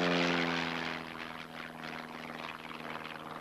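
A Jaguar jet aircraft in a deliberate test spin, a loud droning engine roar with strong harmonic tones that fades slightly and then pulses unevenly, heard alone.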